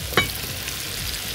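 Chicken pieces fry and brown in a pot with a steady close sizzle, opened by a brief clank as a utensil turns the meat.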